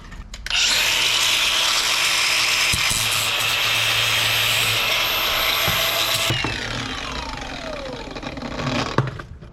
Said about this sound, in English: gonna throw the flap disc on there and just kind of clean those edges up.